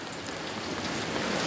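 A steady wash of falling rain, close and even, fills the whole moment with no talk.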